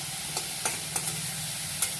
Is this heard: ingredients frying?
yes